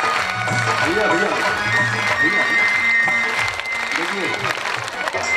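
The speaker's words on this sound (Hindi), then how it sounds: "ताली।" Audience clapping during a Bhagavat Katha religious gathering, a rhythmic patter of many hands mixed with music and voices, with someone speaking briefly over it.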